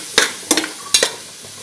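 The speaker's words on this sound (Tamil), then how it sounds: "இஞ்சி பூண்டு பேஸ்ட் போட்டு அது வாசனை போற வரைக்கும் வணக்கலாம்." Onion, tomato and ginger garlic paste sizzle in a pan for mushroom biryani as a spoon stirs them, three loud close scraping strokes in quick succession with a low fry hiss beneath and no voices.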